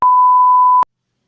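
A censor bleep covering speech, one loud pure steady tone lasting just under a second, stopping abruptly into silence.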